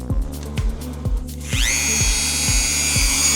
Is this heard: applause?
no